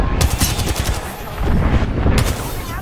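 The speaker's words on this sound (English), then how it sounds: "Dude, I'm getting shot from behind!" Rapid automatic gunfire in an Apex Legends firefight. The shots come as close, loud bursts of quick cracks with a brief lull in the middle before the firing picks up again.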